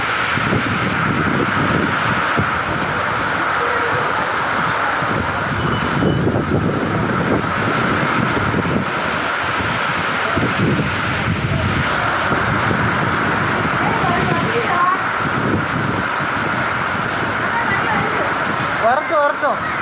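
A loud, constant roar of strong wind sweeping through a cyclonic rainstorm in Dindigul, India, a dense rushing wash that never lets up across the whole stretch.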